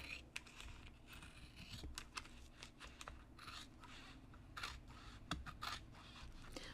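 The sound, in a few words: cutting paper with scissors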